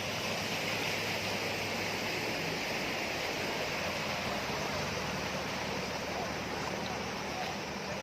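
Floodwater rushes steadily across a flooded road near a bridge on the route from Sung Noen toward Ban Hin Tang in Sema, a continuous broadband roar of flowing water that stays loud and unbroken throughout, with no voices over it.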